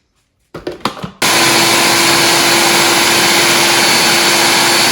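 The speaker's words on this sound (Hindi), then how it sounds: "इसको मैं थोड़ा सा चला दूंगी ग्राइंडर पर" A kitchen grinder blends a gola kebab mixture with coriander, starting after a few clunks and bumps and then roaring continuously, loud and close, with a steady high whine.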